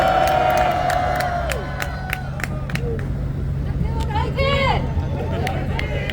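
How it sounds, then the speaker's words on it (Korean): Rally crowd at a university campus gathering cheers and applauds in a dense, steady wash of voices and clapping, with shouts and whistles rising over continuous hubbub throughout. "큰 박수 부탁드립니다"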